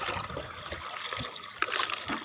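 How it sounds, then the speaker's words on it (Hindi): Water from a half-filled bucket pours and trickles into a clay matka pot in a garden, a steady close splashing stream with no speech. "अब भर देते हैं इस मटकी को फुल।"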